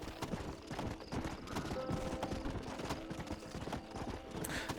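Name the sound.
police horse galloping in video game Red Dead Redemption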